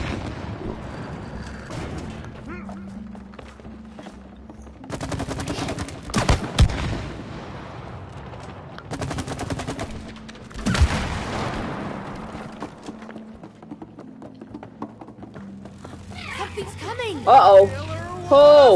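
Gunshots in It Takes Two fire in short, sharp bursts and loud clusters between stretches of quieter game sound, while two players talk over the action.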